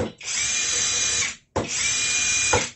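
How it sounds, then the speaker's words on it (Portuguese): A compact cordless drill in drill-only mode whirs steadily at high speed in two long bursts, with a brief stop between them, close and loud with no talking. "Função apenas de furadeira."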